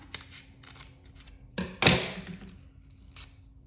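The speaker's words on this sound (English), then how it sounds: "So I'm gonna do a straight line right there and cut straight down." Scissors snip straight down through paper to cut out a stem shape during an art lesson, giving one sharp close cut after a softer rustle, with brief quieter snips before and after.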